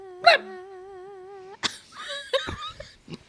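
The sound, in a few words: small dog yapping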